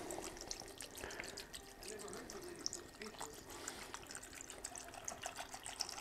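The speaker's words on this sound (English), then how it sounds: "But let's get these filled up." EvapoRust rust remover pours into containers holding rusted sockets, a faint, continuous trickle and splash with small clinks, while a person talks through part of it.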